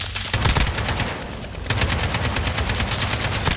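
Rapid automatic gunfire from Modern Warfare 2019, played live at Gamescom, fires in dense continuous bursts, loud and close, with a short lull mid-way before the shooting resumes.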